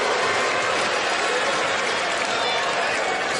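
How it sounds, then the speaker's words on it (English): A US Open tennis crowd boos Andre Agassi after a drop shot, a loud, continuous roar of massed voices with no pauses, under a commentator's voice. "They're booing him because he hit a drop shot."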